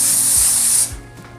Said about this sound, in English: I'm gonna spray this pan with some olive oil, vegetable oil, whatever kind of oil.